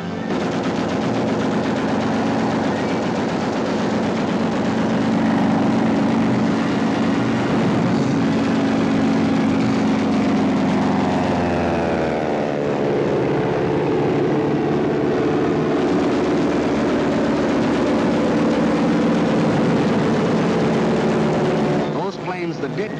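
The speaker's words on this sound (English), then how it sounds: "the planes of the Luftwaffe were over Poland, wiping out the Polish Air Force" Luftwaffe warplanes of the German invasion over Poland, a loud sustained drone of aircraft engines mixed with rattling machine-gun bursts, dense and continuous throughout with a brief drop near the end.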